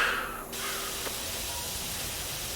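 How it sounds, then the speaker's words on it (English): A power washer sprays water in the video game PowerWash Simulator, a continuous close hiss that dips briefly near the start, then holds steady and fairly loud. "Everything I think of is replaced with the spraying of water."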